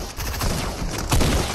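Video game gunfire rattles in a dense, continuous burst of shots, loud and close, with a heavier blast near the end.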